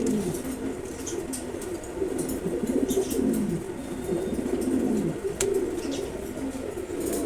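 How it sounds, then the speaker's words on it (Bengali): Several pigeons, racers among them, coo close by in a loft, their low warbling calls rising and falling in overlapping waves with a few sharp taps and rustles mixed in. "আরো বেশ কিছু কবুতর আছে"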